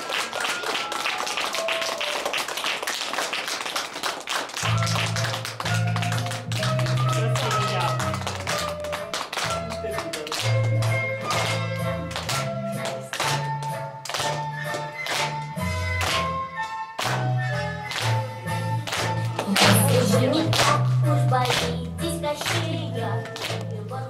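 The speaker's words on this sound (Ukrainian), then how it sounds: "Аплодуйте усі батьки" Parents clap steadily in rhythm at a children's autumn festival, their close, continuous claps running under loud music throughout.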